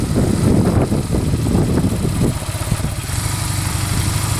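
A motorcycle engine starts up and runs with a loud, rough low rumble that steadies into an idle, during a beginner's first riding lesson.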